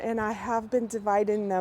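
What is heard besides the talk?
No distinct noise like a dog, phone or traffic.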